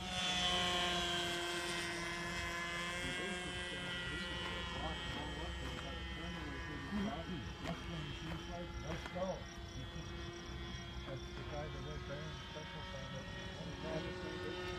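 Electric remote control model airplanes flying at a club field, a faint steady propeller whine with distant voices.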